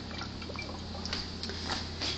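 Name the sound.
pouring water kefir through a funnel into a bottle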